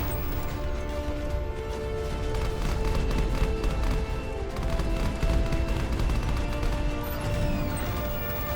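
A shoulder-mounted Gatling gun firing in the video game Left Alive, its dense, rattling bursts running continuously and loudly with crashing impacts layered in the game mix.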